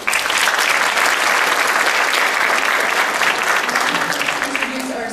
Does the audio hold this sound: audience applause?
yes